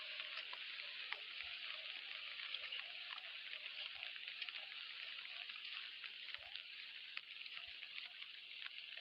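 Morning rain falls steadily near a stream while out fishing, a faint, even hiss with scattered drop ticks continuing unbroken throughout.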